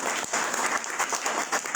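Applause from a church congregation, a steady patter of many hands clapping together for under two seconds, moderately loud with no speech over it.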